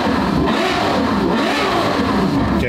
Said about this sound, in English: Look how fast this motor revs.